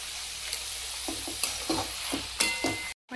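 Tomatoes stirred and cooking in a pan, a steady close sizzle punctuated by repeated spatula scrapes and taps every half second or so, ending in a brief drop to silence.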